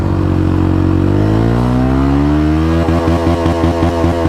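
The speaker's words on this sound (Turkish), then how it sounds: "Motorumu çalıştıralım ve Yola çıkalım. Birinci viteste" A CFMOTO 150NK motorcycle fitted with a replica Akrapovic exhaust revs up in first gear, its loud single-cylinder note rising steadily in pitch before breaking into a rapid, pulsing exhaust burble close by.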